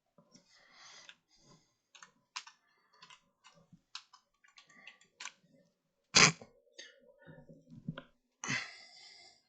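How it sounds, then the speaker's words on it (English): Typing on a computer keyboard: irregular bursts of crisp key clicks, with a few louder, sharper taps near the end and short quiet gaps between runs. "I'm typing, something like that."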